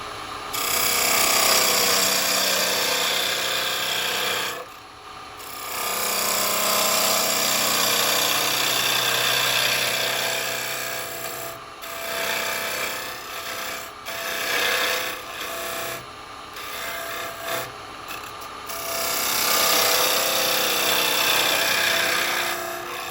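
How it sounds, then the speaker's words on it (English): A square carbide tool cuts wood spinning on a lathe, giving a loud, continuous rasping scrape with a few short breaks as the tool lifts off and re-engages. "I'm going to come in with a square carbide."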